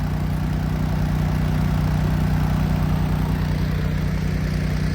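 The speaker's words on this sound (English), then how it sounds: "We'll just let the truck run." A farm service truck's engine idling in cold weather with its air system frozen, a loud, steady low rumble with an even pulsing throb and no talk.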